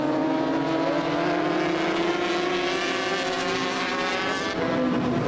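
Racing motorcycles, including 250cc machines, flick through a bend together at the Kirkistown circuit, a dense, loud, continuous engine whine with shifting pitches as the pack passes close by, no voices.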